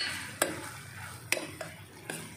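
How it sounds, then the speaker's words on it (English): Spiced bhindi sabji, okra with red chili and dhania powder, stirred in a pan with a spoon: a few sharp scrapes and clinks at irregular intervals over a soft, steady sizzle, close and alone. "Just mix it"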